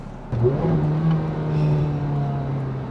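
A Ferrari F430 engine revs to 4,500 RPM and holds a strong, steady drone with rising pitch, loud and close, with no talking.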